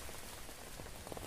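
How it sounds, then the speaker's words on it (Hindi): Heavy rain pours steadily on a hillside, a dense continuous hiss of drops with no voices over it. "इतना बारिश हो रहा है"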